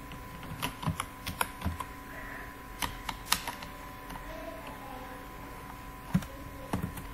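Someone types on a computer keyboard with quick, irregular clicks and taps close by, over a faint background hum.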